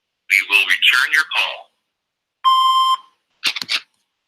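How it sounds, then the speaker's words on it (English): A single electronic answering-machine beep sounds during a phone call, steady and clear for about half a second, following a stretch of talk and followed by a brief voice. "Leave your name and phone number after the beep."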